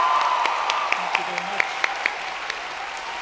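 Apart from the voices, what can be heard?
applause for the National Symphony Orchestra Ireland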